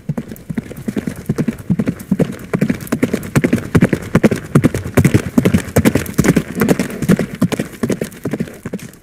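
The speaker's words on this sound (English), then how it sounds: "I heard a horse's hoof on wet mud." A horse's hooves clop steadily on wet mud, close and rhythmic, with a quick, even, repeating beat and no voices.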